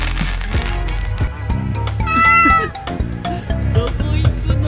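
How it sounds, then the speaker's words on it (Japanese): A cat meows at a Thai island resort on Koh Samui after a fire show, its cries rising over loud background music and chatter, fairly close and clear. "どこ行くの猫ちゃん"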